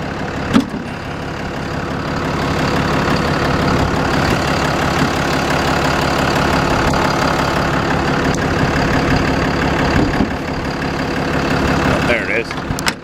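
A Dodge wrecker truck's 6.7 Cummins diesel engine with 275 miles idles steadily and close by under an open hood, a constant low clattering rumble that holds for the whole stretch with only small shifts.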